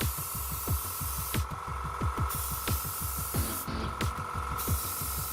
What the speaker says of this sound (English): Each area needs to be subjected to the spray for just a few seconds.